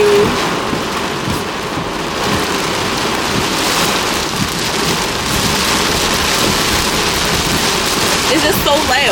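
Heavy rain pours down hard and unbroken in a thunderstorm, a dense, loud hiss of drops hitting surfaces with low thunder rumbling underneath throughout.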